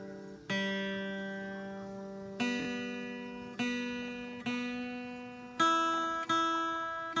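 Guitar strings plucked one at a time while tuning, a slow series of single ringing notes that decay between plucks, close and fairly soft, with no talking.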